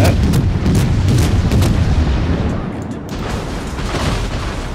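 Heavy naval gunfire in World of Warships: loud, dense rumbling booms from battleship guns fill the whole stretch, with a sustained roar that eases slightly partway through and carries on without speech.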